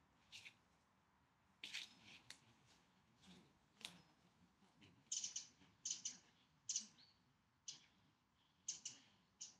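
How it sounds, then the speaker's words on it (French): Birds chirping outside an abandoned chapel, a scatter of short, fairly faint calls and tweets repeating irregularly through quiet outdoor ambience, with no voices. "On a beaucoup d'oiseaux, c'est agréable."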